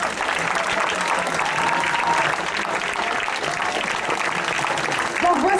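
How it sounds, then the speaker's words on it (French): Crowd applause at an outdoor rally in Nice supporting hunger-striking healthcare workers, steady continuous clapping across the whole stretch with some voices mixed in. "vous pouvez les applaudir, oui"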